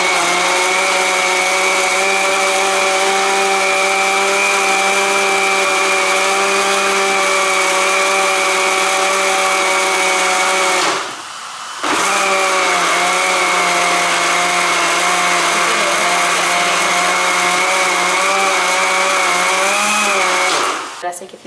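An electric blender whirs steadily, churning cream with water into butter for homemade desi ghee; the loud, even motor drone runs throughout, with a brief stop near the middle before starting again.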